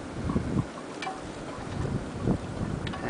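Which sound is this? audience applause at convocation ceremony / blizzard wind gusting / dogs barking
blizzard wind gusting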